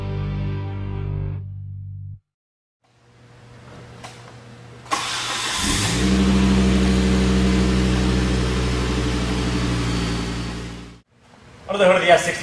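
A turbocharged 2.5-liter inline-5 in a 2007 Volvo S60R cranks and fires, settles into a low idle, then is revved up in a sustained, loud rise before dropping off; a voice speaks briefly at the start and end.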